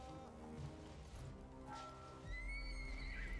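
A horse in a movie scene neighs loudly in a long whinny, mixed with hoofbeats and a crash of action from the soundtrack, with no talking.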